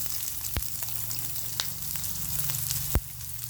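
Garlic and onion fry in hot oil for a sweet and sour dish: a close, steady sizzle punctuated by a few sharp clacks of a utensil against the pan.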